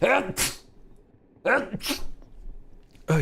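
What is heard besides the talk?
sneeze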